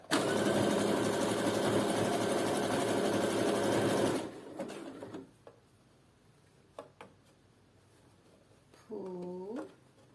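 Sewing machine stitching a thong with rings, a dense loud whir for about four seconds that then stops, followed by faint handling clicks and a short higher whine near the end.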